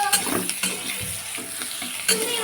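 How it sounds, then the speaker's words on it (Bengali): Onion fries in a pan for a fish curry, a moderate sizzle broken by spatula stirs and light clinks from the pan. "এই যে পেঁয়াজটা ভাজা বসিয়ে দিয়েছি"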